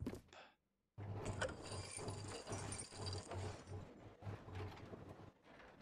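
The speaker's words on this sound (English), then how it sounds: "Anchor up." A ship's anchor being hauled up in the sailing video game Sail: steady mechanical rattling and clanking, with rhythmic ratchet-like clicks running for several seconds after a brief pause.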